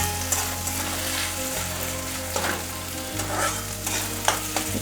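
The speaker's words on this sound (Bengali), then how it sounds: "একটু চালটা ভেজে নিলাম।" Rice frying in a pan over a medium gas flame while being stirred, with a steady close sizzle and scraping strokes of the spoon throughout and no talking.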